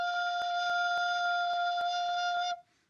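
A recorder holds a single steady low F, clear and sustained for a couple of seconds, with faint clicks over it, then cuts off abruptly into quiet.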